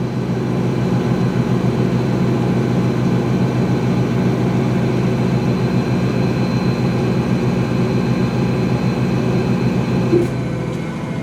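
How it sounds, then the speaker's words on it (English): 2006 GE Profile washing machine on its spin cycle, a loud steady droning roar with a fast rhythmic pulse, close and continuous, easing off slightly near the end with no braking. "Oh, there we go, that's the end of the spin."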